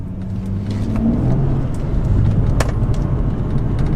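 A BMW M135i accelerating hard on a cold road, its engine note climbing steadily as a loud, continuous drone with road and wind roar heard from inside the cabin, no talking.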